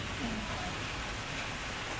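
Rain falls steadily in Malaysia, an even, broad hiss that runs the full length without any voices.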